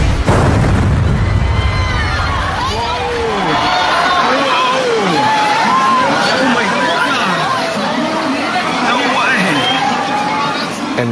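Aircraft fuel tank exploding in an air crash documentary, a deep boom at the start that fades into a mix of voices and crowd chatter.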